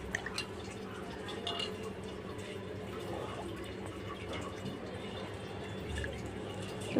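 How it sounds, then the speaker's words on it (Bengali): Rice being rinsed in water, a small amount of about 200 grams washed twice, with steady close sloshing and dripping of water running through the whole stretch, no talk over it. "তো ভালো করে এখানে আমি দুবার ছুটকে চালটাকে ধুয়ে নেব।"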